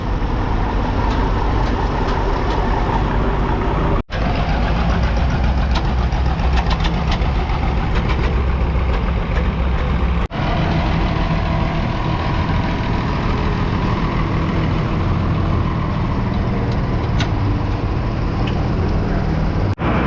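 Heavy crawler tractor engines idle at a farm show with a constant low rumble and knocking throb, loud and nearby, broken by a couple of sudden brief dropouts.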